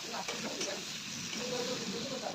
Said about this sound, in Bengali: আলুগুলো তো তেলে নাড়াচাড়া করে লালটা তেলে মাখা মাখা খেতে পারবো।